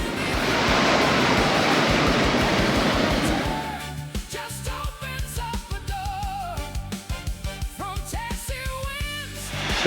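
Wollomombi Falls on the Wollomombi River cascades into a gorge along Waterfall Way, a loud, steady roar of rushing water for the first few seconds that then gives way to clearer tonal sounds.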